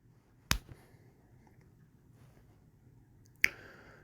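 Two crisp, sharp finger snaps made with three fingers ring out close and isolated, about three seconds apart, against a quiet room.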